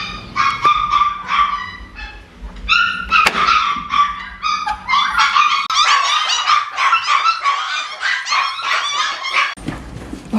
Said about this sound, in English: running around the house, biting everything and barking